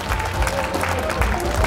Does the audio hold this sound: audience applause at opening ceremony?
yes